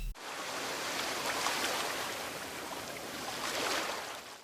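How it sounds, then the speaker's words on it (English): Looping ocean-wave ambience from the video game Minecraft that sounds stuck: a dense, steady wash of hissing surf noise with only slight swells in loudness, fairly quiet and without voices. "there were also some stuck sounding ocean waves"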